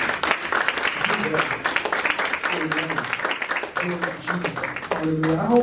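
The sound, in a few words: audience clapping in church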